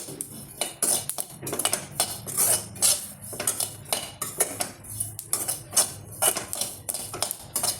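Ingredients for a stuffed capsicum filling being dry-roasted in a pan, with a spoon scraping and clinking against the metal in quick, irregular bursts of stirring, close and clear with no talk.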